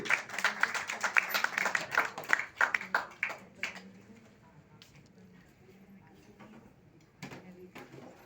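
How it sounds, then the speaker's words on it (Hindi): A crowd at a book launch ceremony claps dense and loud for about four seconds, the applause then thinning into scattered claps with a short final burst. "एक बार जोरदार तालियां नहीं रुकनी चाहिए।"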